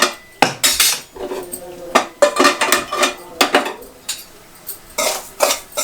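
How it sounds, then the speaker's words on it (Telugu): Metal utensils clank and scrape against pots at a village-style stove while curry is being cooked, a series of sharp, close clatters and knocks in irregular bursts with short pauses between. "ఇప్పుడే ఉడికింది ఈ స్టవ్ మీదనేమో కర్రీ వేసేసుకుంటాను"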